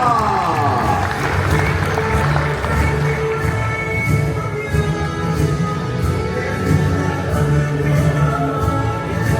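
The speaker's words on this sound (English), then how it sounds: "Let's hear it, everybody, a round of applause" A crowd at a boxing weigh-in on the Gold Coast in Queensland applauds and cheers steadily, a dense sustained wash of clapping and noise with voices mixed in throughout.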